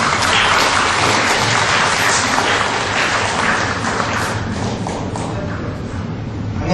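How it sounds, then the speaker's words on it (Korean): Loud, dense applause from a lecture audience welcoming a speaker, a continuous close roar of many clapping hands sustained for nearly seven seconds at a steady level. "큰 박수로 맞아주시면 감사하겠습니다."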